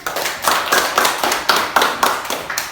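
A classroom of students claps together for a student group in a school lesson, a loud, close burst of dense clapping with a slightly pulsing rhythm and no talk over it.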